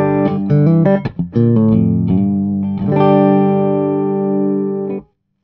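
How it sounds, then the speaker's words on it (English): Clean electric guitar played through a Red Plate amplifier on its 50 watt setting, loud and undistorted: a few quick plucked notes, then a sustained ringing chord that fades out at the end. "On the 50 watt setting, you can get some really nice pristine clean tones."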